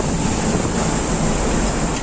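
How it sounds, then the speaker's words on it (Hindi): Stormy sea during Cyclone Tauktae off the Mumbai coast: a continuous roar of crashing waves and heavy wind buffeting the microphone, loud and unbroken throughout. "आंखों के सामने उफान मारती समुद्री लहरें और उस पर कागज की तरह डूब रही बोट।"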